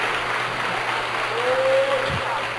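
A church congregation applauds during a Portuguese-language sermon, a steady broad wash of clapping that holds evenly for a couple of seconds, with a faint tone passing through.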